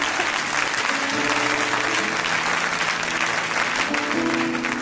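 A church congregation applauds the Lord with loud, sustained clapping throughout, and faint voices and tones sound beneath it.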